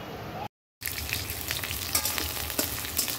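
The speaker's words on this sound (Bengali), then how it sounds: "তেলটা সাদা তেল দিলাম, দিয়ে পেঁয়াজ দিয়ে দিলাম।" Onions frying in white cooking oil: a steady, close sizzle with crackling pops. A brief drop to silence comes near the start, then the hiss runs on unbroken.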